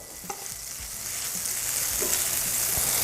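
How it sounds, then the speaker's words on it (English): A teaspoon of butter melting in a hot pan, a continuous crackling sizzle that builds slightly over a few seconds, with a couple of light utensil taps, close up and no talking. "We're going to go in at that next teaspoon of butter. Get that melt down."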